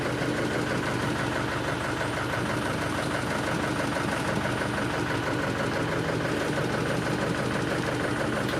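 An ice cream van's engine idles steadily and continuously, a dense, even mechanical drone close to the microphone with no talk over it.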